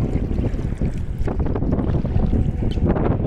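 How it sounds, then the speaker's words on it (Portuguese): Strong wind buffets the microphone continuously on a canoe out on a fishing camping trip, a loud, rough rumble with no clear talk. "O vento tá incomodando aí"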